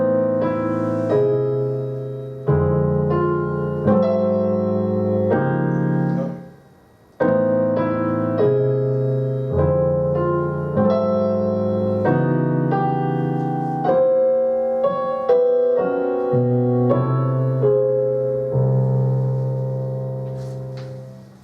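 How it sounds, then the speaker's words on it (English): Solo piano plays the first A section of a jazz arrangement of an original elegy theme: a steady sequence of sustained, ringing chords with one brief pause midway, played alone and fading at the end. "This is how the first A section sounds as stated by the solo piano."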